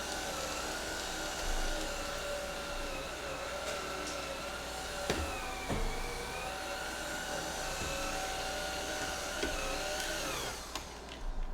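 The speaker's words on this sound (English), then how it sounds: "Let me do a really quick little vacuum so we can have a nice clean area to hang out." A vacuum cleaner runs steadily while a bunny area is cleaned, a loud continuous whine and roar with a few bumps and pitch shifts as it moves, then cuts off near the end.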